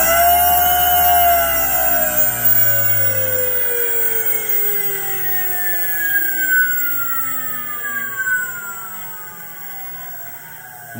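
An ME1507 electric motor spins on a bench test under a Sevcon Gen4 Size6 controller fed 112 volts. Its steady electric whine holds several tones that glide smoothly downward as the motor slows, with a faint background hum and no talking.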